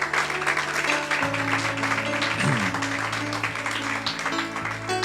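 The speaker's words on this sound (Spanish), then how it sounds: "Por favor, denle una ofrenda de palmas al Señor." A church congregation claps during a service, steady sustained applause over an organ or keyboard playing low, sustained chords underneath.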